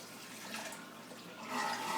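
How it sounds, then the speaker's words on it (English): Soft, steady splashing and gurgling of about two quarts of water being poured into a pot, getting a little fuller toward the end, with no talking. "you want to add your 2 quarts of water"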